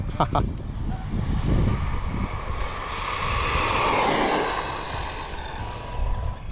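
A Team Corally Syncro RC car's electric motor spins up to a loud, high-pitched whine that swells and fades, with wind buffeting the microphone.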